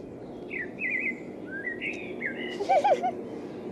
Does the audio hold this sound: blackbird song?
yes